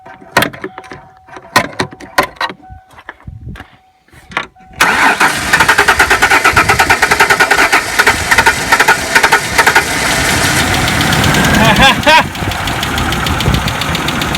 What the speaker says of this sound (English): It's running a little rough, but it did start.